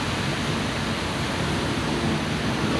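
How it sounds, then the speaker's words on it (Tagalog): Very strong rain pours down steadily at a cremation chapel in stormy weather. It makes a loud, continuous roar that stays even throughout, with no talking. "Sobra-sobra lakas ang ulan."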